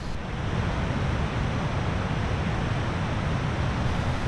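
Water roars down a river in a front yard along the Hetch Hetchy loop, a steady, loud broadband rush with no letup and no voices.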